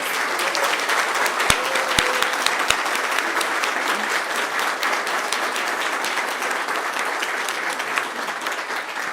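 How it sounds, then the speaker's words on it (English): Sustained applause from an audience at a Chicago mayor's press event on converting empty office space into housing, honouring city staff; dense, steady clapping fills the whole stretch with no talk over it. "would like to acknowledge them with a round of applause"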